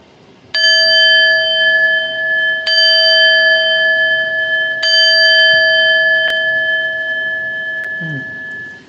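A bell-like electronic chime sounds as an end-of-episode effect, striking three times in a slow, even pattern with each ringing tone holding and overlapping the next, loud and alone before fading out.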